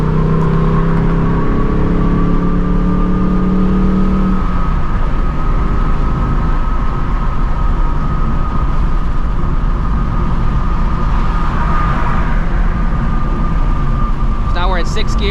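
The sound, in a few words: Ford Mustang engine revving during rev-matched downshift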